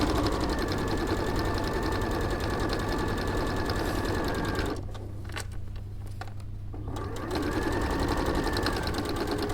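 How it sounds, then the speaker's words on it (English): A sewing machine runs a straight stitch along a fabric edge, a steady loud mechanical whir that eases briefly mid-way before resuming, with no talking. "Just sewing right along the edge then on that?"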